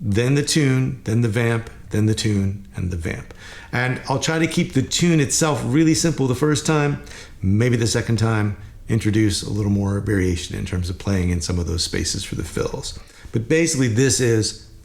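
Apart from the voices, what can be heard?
No everyday noise stands out behind the speech.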